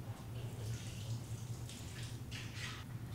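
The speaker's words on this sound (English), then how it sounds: "Rinse the carrots right in the pan and drain the water." Water runs and splashes as peeled, cut carrots are rinsed and drained in a 1-quart stainless saucepan. It sounds like a soft, continuous trickle with a few brighter splashes toward the end, close and fairly quiet.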